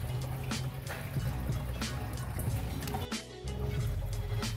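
A caiman lowered into the water of its enclosure, with steady trickling and dripping water, soft sloshing and small drips throughout, close by and moderately quiet.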